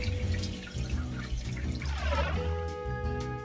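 Running tap water splashes steadily over a pumpkin's skin being rinsed clean after a salt scrub, a continuous close-up flow with shifting drips and gurgles.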